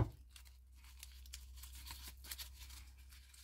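Soft crinkling and rustling as a paper slip is drawn and crumpled for a raffle draw, close and faint over a low steady hum.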